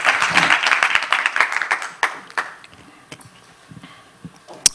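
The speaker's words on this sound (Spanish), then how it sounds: "Dale un aplauso al Señor." A church congregation applauds during a Spanish-language sermon, a dense burst of many hands clapping close by that thins out into scattered claps after a couple of seconds, with a few voices underneath.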